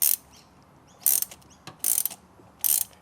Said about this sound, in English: I got a ratchet spanner.